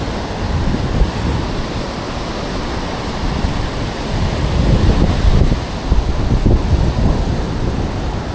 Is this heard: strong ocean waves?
yes